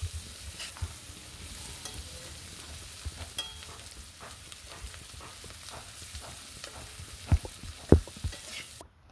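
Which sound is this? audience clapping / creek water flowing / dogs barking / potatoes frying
potatoes frying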